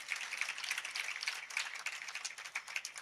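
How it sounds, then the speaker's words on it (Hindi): Audience at a Jain religious discourse applauding, a steady patter of many hands clapping at moderate distance, continuous and fairly even for the whole stretch. "बजाओ अच्छे ताली, धीमे क्यों बजाते हैं?"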